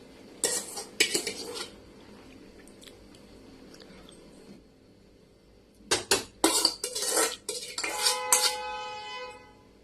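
Cooked rice tipped onto chicken in a pot and spread with a metal spoon: bursts of scraping and clinking against the pot, a quiet pause, then more busy clattering and soft squishing.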